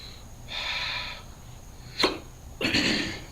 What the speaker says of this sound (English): these hiccups will not go away